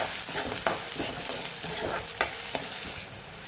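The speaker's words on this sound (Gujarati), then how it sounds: "એને પહેલાં આપણે સૂકી ડુંગળીનો વઘાર કરી દીધો છે" Dry onion tempering for mixed dal sizzles steadily in a pan, with a continuous frying hiss broken by scraping stirs, close and fairly loud.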